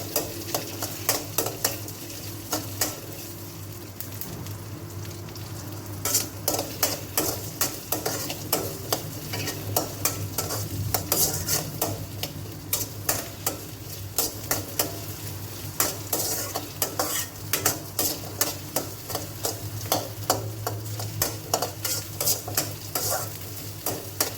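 Onions sautéing in a pan for coconut chutney, with a continuous sizzle under a rapid, rhythmic clatter of a spoon stirring and scraping close by.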